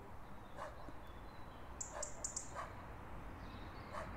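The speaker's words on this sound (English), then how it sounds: "For a second I thought that was actual barking outside, but it's the game" A dog barks in a first-person horror game, heard as a few faint, distant barks spread over a low, steady ambient background.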